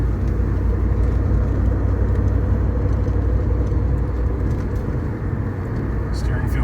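A 1993 Callaway C8 SuperNatural Camaro cruises along a road, its engine and tire roar a steady loud rumble inside the cabin while someone talks over it.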